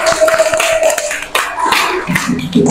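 A classroom of young pupils claps, a loose burst of hand claps and taps that fades and restarts unevenly, close and moderately loud.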